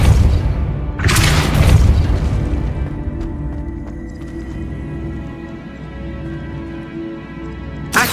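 A Depulso force spell is cast in Hogwarts Legacy, hitting as a loud, deep boom with a bright crackling burst near the start. A lower rumble then hangs on and decays for several seconds, and a second burst begins at the very end.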